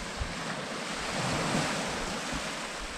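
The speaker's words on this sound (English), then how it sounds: "Little tiny bit of wind getting up now." Steady wind sweeping across a rocky reef shoreline at Lilstock, mixed with a constant wash of surf; a continuous, fairly loud broadband rush with slight gusting swells and no speech.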